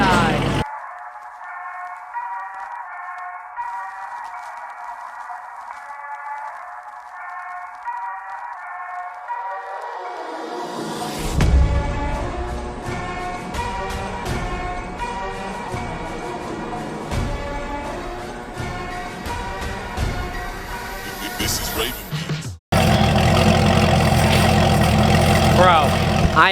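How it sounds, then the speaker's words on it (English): A straight-piped Corvette V8 idles with a steady drone, then revs hard and climbs through a loud, roaring pull, ending in a sudden, harsher burst of noise. "I've actually never heard this car do a pull without being on the highway"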